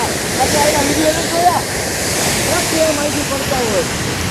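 Jamjir waterfall on the Singoda river, a loud steady roar of rushing, falling water filling the whole scene, with a few faint voices underneath.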